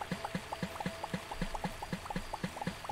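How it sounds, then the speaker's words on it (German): Water being gathered in Starbound, heard as a quick, regular run of small liquid plops and drips, one every fraction of a second, faint and close, with no talk over them. "wenn wir schon hier sind, klauen wir uns noch ein bisschen Wasser"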